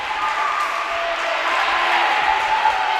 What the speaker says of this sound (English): The crowd pops with that one.